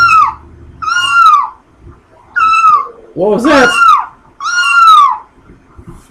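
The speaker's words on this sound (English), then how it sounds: "I got two cats." A house cat meows several times indoors, loud and close, with drawn-out rising and falling cries; a person briefly speaks between the meows.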